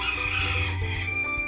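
A domestic rooster crows at a house, a long, loud, drawn-out call that fills the whole moment close by, with no voices over it.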